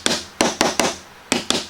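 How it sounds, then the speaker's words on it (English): A metal hammer raps a wooden hand-cut dovetail joint on a box: six sharp, close taps in two uneven clusters with short gaps between, heard alone with no talk. "Another trick is to use a metal hammer"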